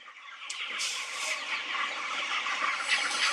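A flock of chickens clucks and chatters continuously while eating feed mixed with medicine, a dense, steady murmur of close calls with no talking.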